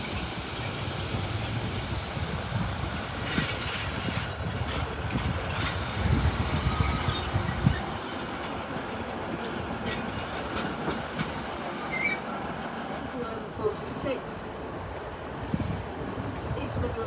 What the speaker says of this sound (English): we're terminating East Midlands Railway service from Peterborough